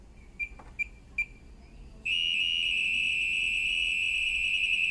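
Three short electronic beeps, then a long continuous high-pitched smart diagnosis tone sounds steadily from an LG 5.5kg Direct Drive washing machine, loud and close with no voices.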